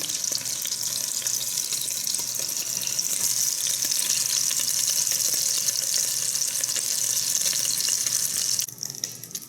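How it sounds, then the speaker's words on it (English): Meatballs browning in a frying pan give a steady, loud, hissing sizzle that holds even for most of the stretch, then drops off sharply near the end; no one speaks. "Trying to get all the sides brown, so that's why I'm keeping them on this side instead of all the way over."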